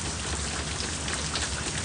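Heavy rain pours down steadily during Texas flooding, a dense, continuous hiss of drops striking surfaces close by, unbroken and loud throughout with no voices.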